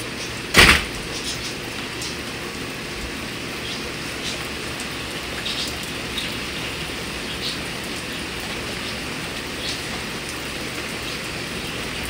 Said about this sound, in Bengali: বাইরে খুব সুন্দর বৃষ্টি হচ্ছে,